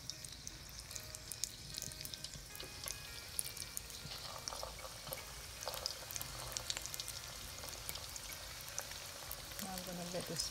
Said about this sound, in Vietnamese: Get the spring roll into the pan to deep fry.